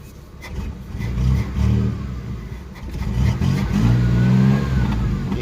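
A 1993 Chevrolet S10 Blazer 4x4 engine needing a tune-up, with fuel pump or injector trouble, idling roughly and surging unevenly, its low rumble rising and sagging as it misfires, close by.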